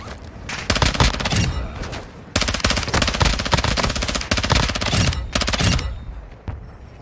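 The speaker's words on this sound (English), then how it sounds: "Somebody called a mortar on me?" Mortar strikes and gunfire in the video game DMZ come as dense, loud bursts of rapid cracking blasts in two long volleys with a brief gap between them, close and unaccompanied by talk.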